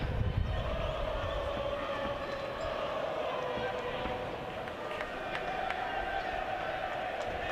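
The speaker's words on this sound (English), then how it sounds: "a real partisan crowd here at Twickenham" A partisan rugby crowd of Cornwall and Lancashire fans fills Twickenham at the Bill Beaumont Cup Final, a dense, continuous roar and murmur heard from within the stands, with a commentator talking over it.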